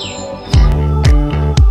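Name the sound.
birdsong played from an art sound installation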